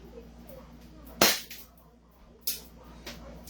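Airsoft M4A1 CQB gun firing two sharp, loud snapping shots about a second apart, with a fainter third pop after, against a quiet indoor background.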